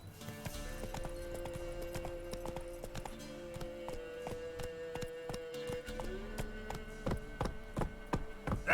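Hooves of the horse Roach clip-clop in a quick, steady rhythm through the video game The Witcher 3: Wild Hunt, with sustained game music tones beneath and a whinny-like touch.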